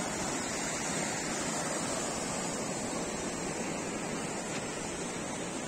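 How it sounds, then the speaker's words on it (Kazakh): Floodwater of the Oyil river near Miyaly village rushes past in a continuous, heavy roar of broadband water noise, steady and unbroken with no voices. "Судың ағыс күші көбейіп кетті вообще"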